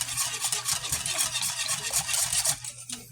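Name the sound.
whisking butter together with heavy cream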